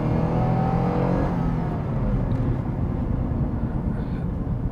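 A Lexus IS250 in third gear downshifts and pulls at full throttle, a loud steady engine drone filling the cabin from start to finish with a rising whine early on.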